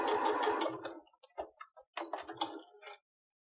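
A sewing machine backstitches along a children's legging hem, a fast rattling run of stitches, then a pause and a few short stop-start bursts before stopping, close and alone.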